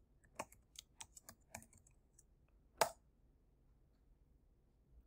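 Several quick, sharp keystrokes on a computer keyboard as a password is entered, a short burst of clicks followed by one louder final key press, then quiet.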